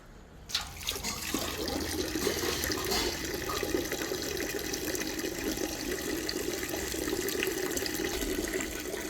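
A tap runs while a dog is washed, a steady rushing splash of water that starts abruptly and keeps going close by at an even level, with no voices.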